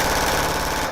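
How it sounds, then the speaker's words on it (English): Fully automatic gunfire from a Glock handgun fitted with a switch rips out as one loud, continuous rapid burst of shots, close and harsh, cutting off abruptly. "what you hear now is a fully automatic weapon"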